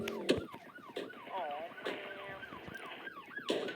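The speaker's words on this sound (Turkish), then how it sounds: "Polis arabası bana yaklaşıyor." A police car siren in the video game Dude Theft Wars wails and warbles in a quick, rising-and-falling pattern, fairly faint, with a few brief knocks mixed in.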